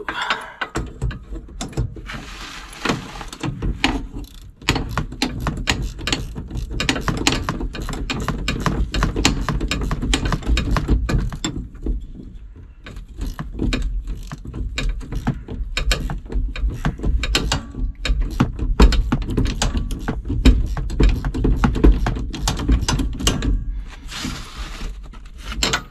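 A ratchet with a deep socket installing a truck brake booster, giving repeated clicking ratchet strokes in bursts with short pauses, close up and mechanical.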